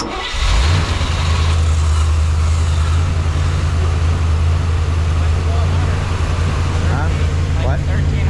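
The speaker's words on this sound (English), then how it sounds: "I said start the car." A 1976 Corvette engine that had sat for 10 years starts and settles into a loud, steady, fast idle with a deep rumble, with people talking over it.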